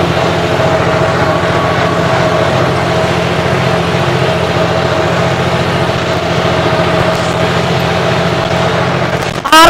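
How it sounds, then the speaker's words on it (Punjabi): A John Deere 5405 4x4 tractor with a modified turbo diesel engine and pump runs in gear while jacked up, giving a loud, steady diesel drone that holds unbroken from start to finish with no voices. "ਸੀ ਗੇਅਰ ਦੇ ਵਿੱਚ ਵੀ ਟਰੈਕਟਰ ਜੈਕ ਕੱਢ ਕੇ ਚੱਲ ਰਿਹਾ ਵਾ"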